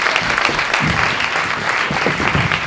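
An audience applauds at an art-creation event with auction, a dense, steady clapping that holds evenly loud from start to finish.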